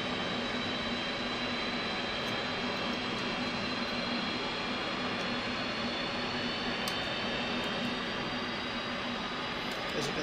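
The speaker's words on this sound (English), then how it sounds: "As you can see, the engine is powering up." Jet aircraft engine powering up during startup, a steady loud broadband roar with a sustained high whine rising slowly in pitch, continuous and close throughout with no talk.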